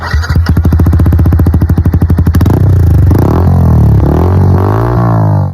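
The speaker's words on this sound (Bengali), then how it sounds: "তারপর আমি বাইকটা স্টার্ট দিয়ে এরকম পিক আপ মারতে লেগে গেলাম।" A motorcycle kicks into life with rapid chugging engine pulses, then revs up and down in rising and falling pitch sweeps, loud and close with no talking.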